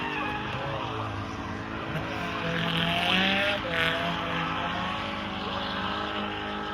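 A drift car in second gear at Castle Combe circuit, its engine note rising and holding steady at high revs, loud and continuous with a brief surge around the middle.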